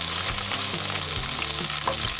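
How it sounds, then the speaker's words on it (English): Sliced peppers for fajitas fry in a pan, a steady loud sizzle running throughout with a few stirring scrapes near the front and no talking. "Usually I throw the peppers in first because they take longer to cook than the onions."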